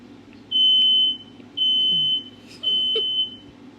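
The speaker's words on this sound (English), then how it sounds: "The smoke detector goes off." Indoor smoke detector going off with three loud, piercing high-pitched beeps about a second long each, evenly spaced and close, with a few faint background knocks between them.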